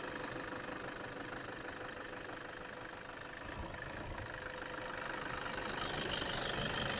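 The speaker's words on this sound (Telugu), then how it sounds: "చాలా స్మూత్ ఉందండి ఇంజన్ అయితే" A 2010 Toyota Innova V engine idling smoothly, a steady low mechanical hum and faint knock heard up close, with no voices.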